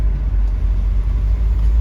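Car driven down the road, heard from inside the cabin as a steady, loud low rumble of engine and road noise without pause.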